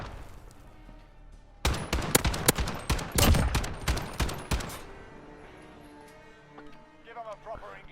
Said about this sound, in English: Get him with these pistols.